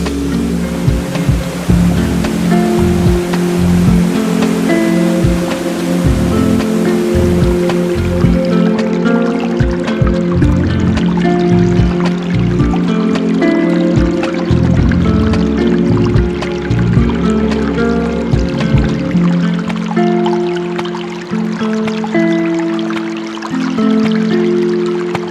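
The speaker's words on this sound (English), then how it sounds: "And this one is called Laya Waterfalls" Laya Waterfall in the Xiaoqikong scenic area of Guizhou, a steady loud roar of rushing, crashing water that continues unbroken, close and enveloping, with no voices.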